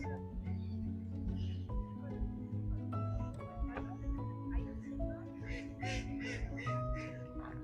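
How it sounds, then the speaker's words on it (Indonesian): Ducks and geese at a pond in a large royal garden, heard as scattered quacks and honks over a steady low hum, with a voice speaking throughout. "Ini ada kolam untuk bebek, angsa, dan sejenisnya"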